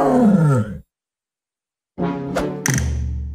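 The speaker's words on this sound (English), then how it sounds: "Tiger." A cartoon tiger gives a loud, deep roar in two surging bursts after a short silence, preceded by a brief growling vocal sound.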